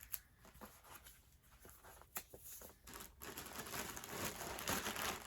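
Close, soft crinkling and rustling of a plastic wrapper being taped back onto a skein of yarn, with scattered taps and a tearing swell that grows busier toward the end.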